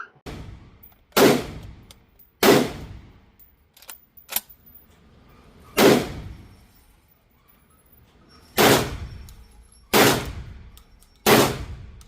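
Six loud, sharp 12-gauge shotgun blasts at an outdoor range, fired from a 20-round drum magazine, spaced irregularly a second or more apart, each decaying quickly into a quiet background.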